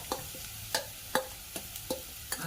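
A spoon stirs curry in a clay pot, giving a series of distinct scraping knocks at an irregular rhythm over a faint background sizzle.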